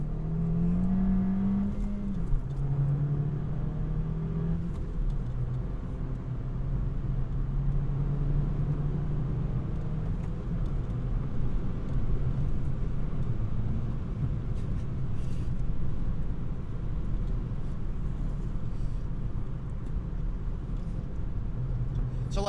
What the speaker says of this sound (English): We did a little first gear roll on, went all the way to fifth gear